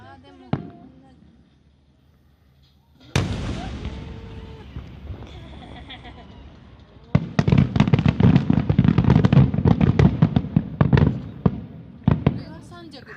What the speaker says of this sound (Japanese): これが三尺玉だ。